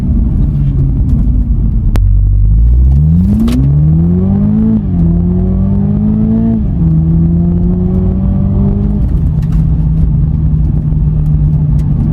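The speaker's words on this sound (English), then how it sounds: "So that's foot flat to the floor, 60. That's a quick car, it's quick." A 2021 Toyota GR Supra 2.0 Fuji Edition accelerating at full throttle, its engine note rising loudly through the gears with brief dips at each shift, close and continuous, with no voices.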